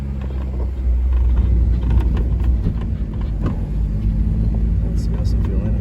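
A Honda Civic DX with a swapped K20Z3 engine idles in a low, even rumble right after a new fuel pump is fitted. Someone talks over it.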